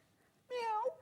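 A person imitates a cat's meow on a live sewing shopping broadcast, a single short, rising-and-falling voiced meow after a moment of near silence.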